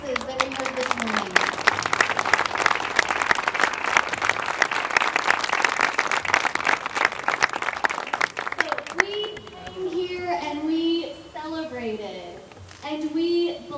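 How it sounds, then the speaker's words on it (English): A crowd outdoors at a learning garden dedication claps loudly and densely for about nine seconds before the applause stops abruptly and a person begins speaking. "let's give another big round of applause"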